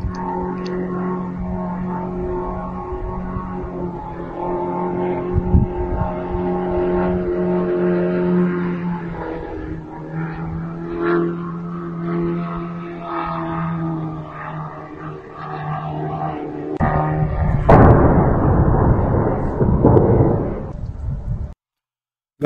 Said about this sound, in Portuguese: Dá para ouvir o drone chegando e a explosão quando ele atingiu lá a refinaria